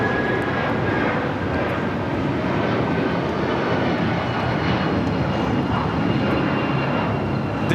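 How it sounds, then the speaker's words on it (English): A United Airlines Boeing 757-200 jet rumbles through its takeoff, a dense, continuous roar that stays loud and steady throughout with no voices over it. "This is United Airlines 1939 taking off to Newark on the 757-200"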